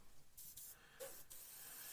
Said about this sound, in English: test spray on the paper below